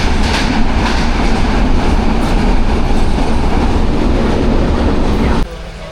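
A loud train rolls along the rails with a continuous rumble and rhythmic clatter, then the noise drops off sharply near the end.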